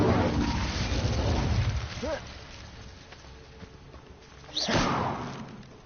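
Incendio fire spell cast in Hogwarts Legacy, whooshing magical bursts with thuds and rising swishes, the strongest flaring near the end under a steady game background.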